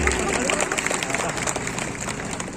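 An audience at a civic gathering in Nagpur applauds, a dense, steady wash of clapping hands that runs the full length with crowd voices mixed in.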